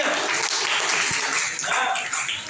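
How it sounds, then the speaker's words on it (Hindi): A class applauds a student in a Hindi language classroom, a steady burst of many hands clapping at moderate volume that tapers slightly toward the end, with no talk over it. "आलिया जी की जोरदार तालियां"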